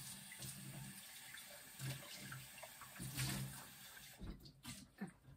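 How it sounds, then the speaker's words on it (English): Water running from a tap to rinse out a jar used for acid dye tie-dyeing, a steady faint splashing flow that ends in a few clinks and handling sounds. "I'm gonna rinse out my jar and just use the same one."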